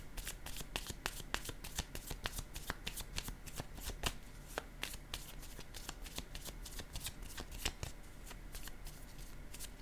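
A deck of cards shuffled repeatedly for a card reading, rapid riffling snaps in a steady rhythm, close and continuous, with no voices.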